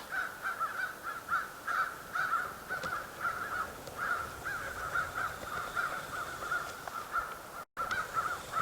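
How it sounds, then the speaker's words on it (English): Crows caw repeatedly in a steady, overlapping chorus from trees nearby, harsh calls mobbing hawks during a snowy outdoor hike, loud and continuous with a brief dropout near the end. "They don't like hawks. So they just scream at them all the time, chase them away."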